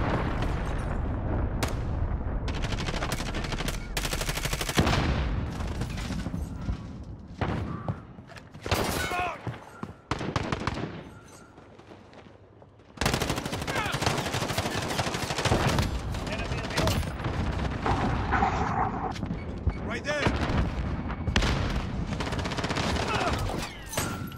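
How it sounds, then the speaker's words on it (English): An allied cruise missile strike and gunfire hit the Shoot House map of a shooter video game: rapid rifle bursts, shotgun blasts and heavy explosions, loud and nearly continuous, with one short lull and occasional voices. "Allied cruise missile launched."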